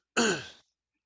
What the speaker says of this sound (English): Now I'm sniffling and coughing